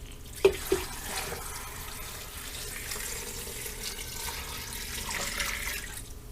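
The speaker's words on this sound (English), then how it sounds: "Now I'm going to add about 8 cups of water." Water pours steadily into an Instant Pot holding bones for broth, a continuous close splashing rush with a couple of sharp clinks near the start.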